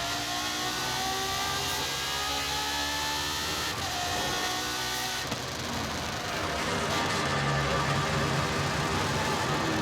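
A rally car engine in Forza Horizon 5 revs hard and shifts through rising and falling pitch, a loud, close, continuous roar with whirring under it.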